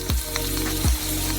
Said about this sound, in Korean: 뜨거운 기름에 튀기면 돼요